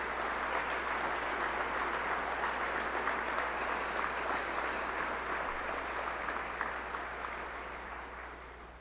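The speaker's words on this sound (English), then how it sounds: "Let's give them a big round of applause for their great work" Sustained applause for emergency responders at a memorial for bank shooting victims, a steady wash of clapping from a large crowd that holds evenly throughout and tapers slightly near the end.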